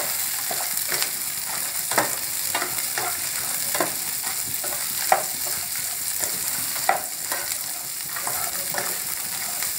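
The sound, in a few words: dry-roasting coriander seeds, red chillies and cumin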